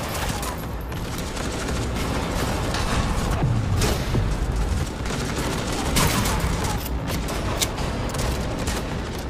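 Dense, sustained gunfire and booming in a high-end video game with a ricochet targeting system, a steady loud barrage of overlapping shots and blasts throughout.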